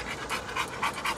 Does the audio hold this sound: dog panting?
yes